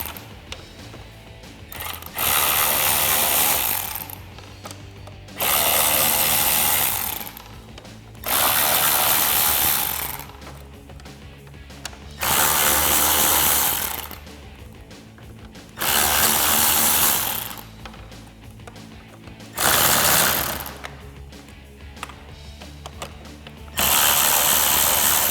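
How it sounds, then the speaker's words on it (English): A 1/4 inch drive electric ratchet with a Phillips bit and extension backs out screws around a RAM 1500 dash panel, whirring in seven close, loud bursts of about two seconds each, with quiet handling in between. "I'm going to take my 1/4 inch drive electric ratchet with a Phillips bit and an extension"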